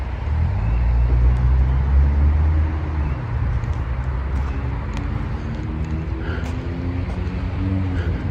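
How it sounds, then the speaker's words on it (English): At night near an Indian mound, a car runs along a road with a steady low engine rumble and tire roar that holds for several seconds, moderately close, with no talk. "Checking to see if that car was coming down here or not."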